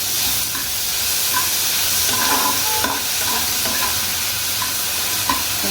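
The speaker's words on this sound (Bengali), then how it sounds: "ভাজা ভাজা হয়ে গেল।" Tomatoes fry in a pan with salt and sugar, giving a continuous loud sizzle and hiss. Repeated scraping and clacking strokes of a stirring utensil sound over it, nearby and without talk.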